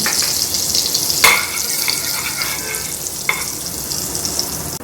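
Cumin seeds crackle and sizzle in hot oil mixed with softened butter for pav bhaji, a steady close frying hiss broken by a couple of sharp spoon clinks.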